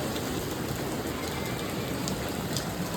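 Heavy rain pours down steadily in Ahmedabad, a dense unbroken hiss of drops hitting surfaces all around, with no voices.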